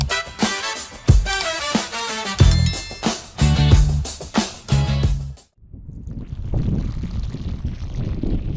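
Water runs along a trench dug in desert sand, a fast brook-like flow with splashing and gurgling bursts, then a softer, steady wash of running water near the microphone.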